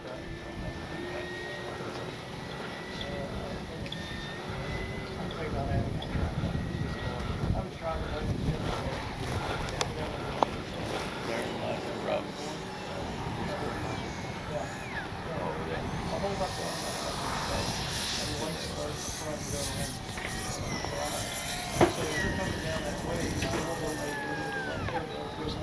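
A Flightline 1600mm RC P-51D Mustang model plane on its maiden flight drones overhead in a gusty crosswind, engine note steady and distant under wind noise on the microphone, with someone talking intermittently.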